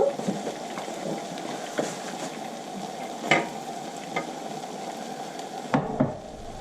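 Very hot butter sizzling in a pan, a steady close crackle and hiss that runs throughout, with a few sharper pops and scrapes along the way.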